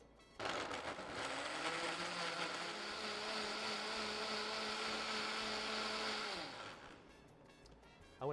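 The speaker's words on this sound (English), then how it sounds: "I'm going to go right into the blender." A countertop blender purees avocado for salsa, starting abruptly and whirring loud and steady for about six seconds before spinning down.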